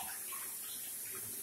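Steady running water pouring continuously while glycolic acid is rinsed off skin, a close, even splashing hiss with no talk.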